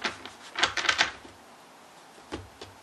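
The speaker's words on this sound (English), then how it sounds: "I'm going to shuffle the Tarot Illuminati for you" Tarot Illuminati cards are shuffled by hand in a quick, close burst of papery riffling and flicking. Two softer card taps follow after a pause.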